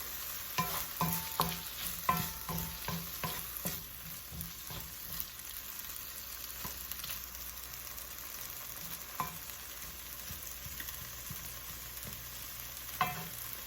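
Onions sizzle in a hot wok during a stir-fry, with a steady frying hiss under a quick run of clanking stirring strokes at first, then sparser scrapes.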